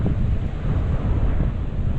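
Strong wind on sea cliffs on the Big Island of Hawaii before a storm, a loud, continuous roaring rush buffeting the microphone with low rumble throughout.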